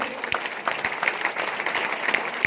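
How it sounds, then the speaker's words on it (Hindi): An audience at a success celebration in Bhilwara claps for the achievers, a brisk continuous patter of many hands with a few sharper individual claps popping out near the microphone. "हम चाहेंगे तीनों अचीवरों के लिए एक बार हाथ उठकर जबरदस्त तालियां आप लोग बजा दें"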